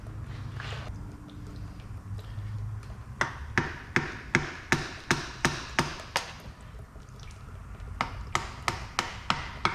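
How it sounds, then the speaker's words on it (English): A hammer strikes the back of a screwdriver to drive out a transmission seal on a Ford Escape during CV axle replacement, giving a series of about a dozen sharp metallic taps in a steady rhythm, close and clear. "hit the back of your screwdriver with a hammer, and you should be able to get that seal to start pushing out"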